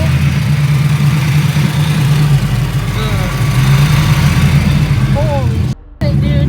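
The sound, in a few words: LS-Z car engine running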